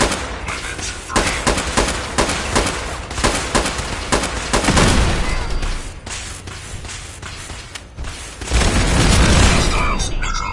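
Automated defense weapons in Fallout 4 fire in rapid bursts of loud gunfire and booming impacts over about ten seconds, heavy and dense, with a synthetic voice heard at moments.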